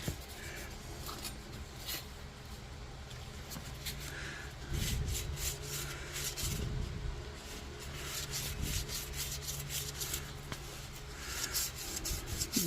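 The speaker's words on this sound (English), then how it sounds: "I'm just going to take some 600 grit sandpaper. Just going to lightly" Fine 600-grit sandpaper is rubbed lightly back and forth over a dried, wet-sandable primer surface. The soft, close strokes come in intermittent bursts against a quiet background, with no talk.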